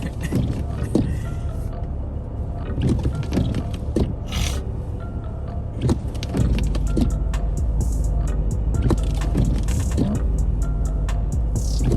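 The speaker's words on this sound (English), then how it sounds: "so my car got stuck, right? And a pile of snow." Car stuck in a snow pile during a Toronto blizzard, with loud rough scraping, rubbing and mechanical noise that grows steadier and heavier partway through, punctuated by sharp clunks and scuffs.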